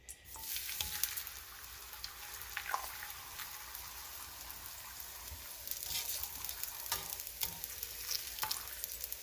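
Tortillas frying in hot oil in a pan for a chicken enchilada bake give a steady, close crackling sizzle with scattered pops and spatters, continuous throughout with no talking.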